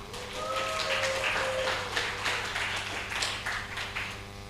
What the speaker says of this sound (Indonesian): Beri tepukan yang gemuruh dulu dong untuk kita semua.